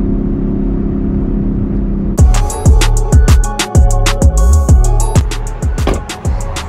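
Chevrolet Camaro ZL1 engine held at part throttle during tuning, a steady idle rumble that jumps into a loud, throbbing run with repeated pulsing surges, close up and with no talking.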